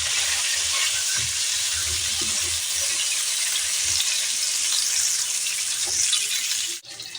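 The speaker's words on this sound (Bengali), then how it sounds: "সেই জন্য সিমে করে পটলগুলোকে ভাজতে হবে।" Pointed gourd pieces, salted, fry in oil on low heat, giving a steady soft sizzle and hiss with occasional small pops, ending in a brief clatter near the close.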